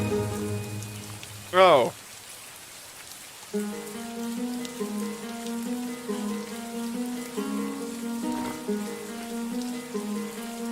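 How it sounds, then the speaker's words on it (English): Rain falls in a video game, a steady hiss of rain on surfaces that persists throughout behind a droning game soundtrack, with a brief exclamation near the start. "the rain is getting louder"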